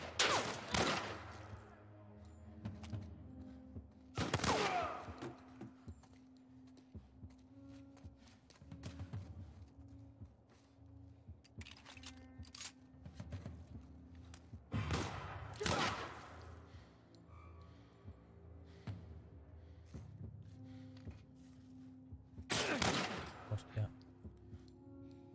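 Gunfire in The Last of Us on PC: several sharp, loud shots spaced irregularly several seconds apart, with quieter game ambience and thuds between them.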